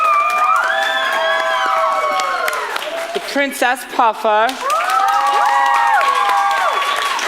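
A theatre audience at a staging of The Mystery of Edwin Drood claps, cheers and whoops for cast members, the loud crowd noise swelling around a brief announcement spoken over it.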